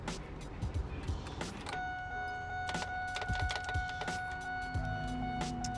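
Power window motor on an old GM car during a window regulator replacement, a steady whining hum running for several seconds with a few mechanical clunks and knocks, heard up close.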